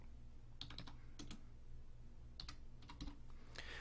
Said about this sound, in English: I will try to type something.